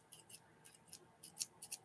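Scissors snip in a quick series of about seven short, crisp cuts, close and fairly quiet, with nothing else heard between them.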